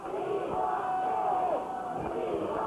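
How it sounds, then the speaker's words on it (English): A 1983 Portland Wrestling arena crowd chants and roars for Billy Jack during a side headlock match, with a dense, continuous mass of voices and a rising yell running through it. "Crowd chanting now, we want Billy."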